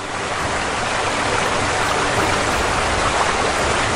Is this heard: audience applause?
no